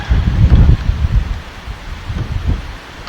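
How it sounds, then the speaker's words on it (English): Cold wind gusting outdoors, loud low buffeting rumbles in uneven bursts, strongest at the start and easing off, with no talk. "It got cold today, and look at that wind."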